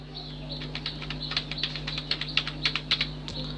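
Rapid, uneven clicking of a computer keyboard as a password is typed, with dozens of close, crisp keystrokes over about three and a half seconds and a low electrical hum underneath.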